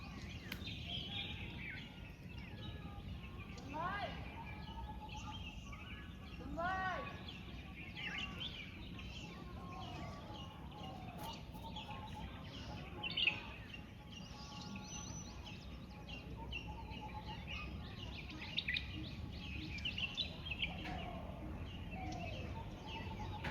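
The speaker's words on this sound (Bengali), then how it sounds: "পাখির ডাক বাদ দিয়ে আর কোনো শব্দ পাবেন না।" Birds calling outdoors around half past six in the morning, scattered chirps and coos at moderate distance over a soft, quiet ambient background.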